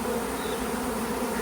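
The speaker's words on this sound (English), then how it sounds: "That one is definitely swarming." A honeybee swarm gives off a dense, continuous buzz near the hives. It stays steady and fairly loud throughout with no talk.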